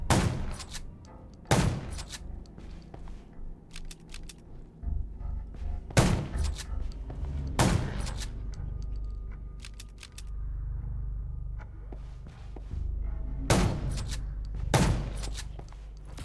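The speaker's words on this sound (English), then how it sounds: "Gunshots will attract more." About six sharp gunshots crack at irregular intervals over a low rumbling background, some in quick pairs, in the zombie video game Undawn.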